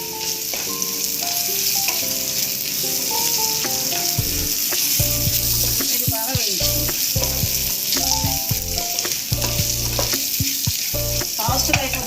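Mint and curry leaves fry in a hot pan for jeera rice, a constant loud sizzle close by, joined partway through by repeated scraping stir strokes.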